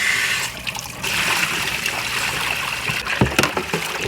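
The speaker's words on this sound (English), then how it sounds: "Let's fill up this bucket with nice hot water" Hot water runs from a tap or hose into a bucket for car washing outdoors, a continuous close rushing splash with brief gurgles and knocks.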